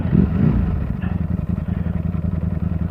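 A Ducati Panigale V4 superbike engine running in sport mode on the road, a steady close, loud low throb with slight revving through the clip and no talk.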